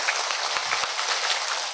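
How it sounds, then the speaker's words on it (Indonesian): An audience at a religious lecture applauds with a steady, dense patter of many hands, fairly loud and continuous, tapering slightly at the end. "tepuk tangan rumiyin"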